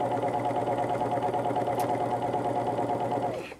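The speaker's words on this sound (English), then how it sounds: "So you can see how easy it is to do lace to lace on your serger." A serger sews lace to lace in a steady, loud, continuous mechanical whir with a fast rhythmic buzz, running evenly throughout and slowing to a stop at the very end.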